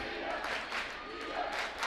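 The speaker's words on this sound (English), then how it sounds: "The crowd cheering D up for North City." Basketball crowd at a conference semifinal game cheering and chanting on defense for North City, a steady roar of voices filling the gym throughout, with swells of shouting rising near the start and end.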